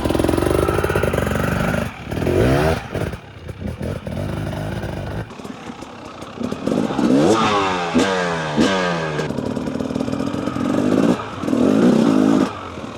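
A 2-stroke 300cc dirt bike revving while climbing a flight of stairs, engine blipping up and down in bursts with brief drops between, loud and close, with some clattering of the bike over the steps.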